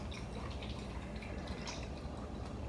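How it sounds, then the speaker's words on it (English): Liquid is poured into a bowl in a steady, close splashing and trickling stream that lasts throughout without pause. "Then you're gonna pour it in the bowl."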